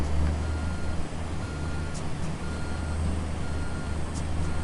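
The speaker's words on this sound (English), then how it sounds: "Back our dump truck, our trusty dump truck up." In Construction Simulator 2, a dump truck backs up with a steady, repeating reversing beep over the low drone of its diesel engine, heard up close with no talking.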